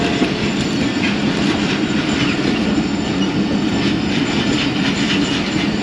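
Two passenger trains, one of them the Jaffar Express, pass each other on a single-line crossing loop, with a loud continuous roar, rumble and clatter of wheels and wagons nearby throughout; no talk.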